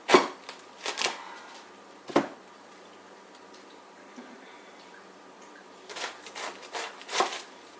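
A knife cuts a head of cabbage for coleslaw on a kitchen countertop, giving a few scattered crisp crunching chops, close and moderately quiet, with pauses in between.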